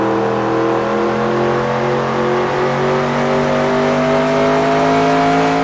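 A NASCAR race car engine in NASCAR Racing 2002 at Richmond, a loud steady high-pitched drone held at constant revs throughout, close and continuous with no talking.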